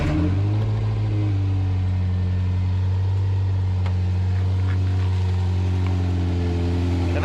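Ferrari 348 with a Capristo exhaust idling after a cold start, a steady, even low engine drone held close and loud for the whole stretch with no talk.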